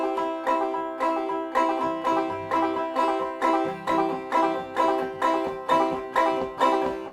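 An acoustic guitar is strummed with banjo-style downstroking in a steady, driving rhythm of sharp downstrokes, each chord struck crisply in a galloping, even pulse with no voices.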